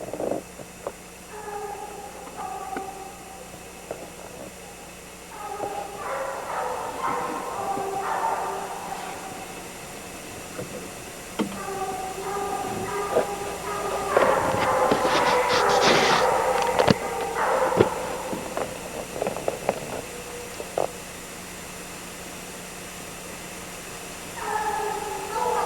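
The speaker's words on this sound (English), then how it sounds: "Dogs are bringing the bear right at me." Hunting dogs bay in repeated bursts while chasing a bear in the woods, their voices swelling into a loud overlapping chorus midway, then fading back to scattered howls.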